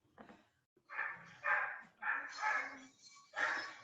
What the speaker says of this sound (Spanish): No son nuestros perros. No, son otros perros esos, no son los míos.